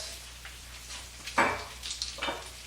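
Green onions hit a hot stir-fry pan for a Chinese-style chicken stir-fry, giving a sudden sharp sizzle that flares up, fades, then crackles again in a few bursts as the food is stirred.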